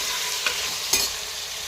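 Peas and mixed vegetables sauté in a pan with a steady close sizzle, broken by two quick scraping strokes of a spoon against the metal.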